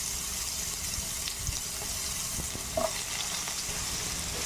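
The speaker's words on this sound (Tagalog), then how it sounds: "Same pan, igigisa tayo. Igigisa natin yung kanyang mga ingredients." Steady hiss of ingredients sautéing in a pan, starting with ginger and onion for a rice dish, with a few soft scrapes and clinks as they are stirred; no talking.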